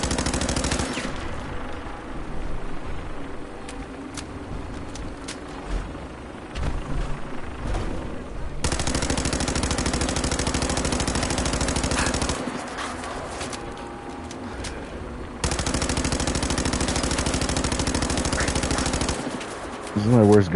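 Sustained bursts of gunfire from a player's weapon in the video game Fallout 4, dense and continuous over a steady game backdrop, with brief quieter gaps between volleys.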